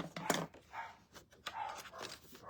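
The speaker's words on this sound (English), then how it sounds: "I don't know why my dogs are barking" Several dogs barking indoors, a few short, faint barks scattered across a quiet room with no talking.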